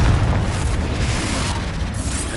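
A Confringo fire-blast spell goes off in Hogwarts Legacy: a loud, sustained booming roar of explosive rumble that fills the short moment without letting up.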